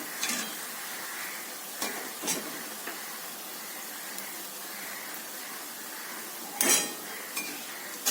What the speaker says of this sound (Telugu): మైదాపిండితో కారం చెక్కలు వేయిస్తున్నాను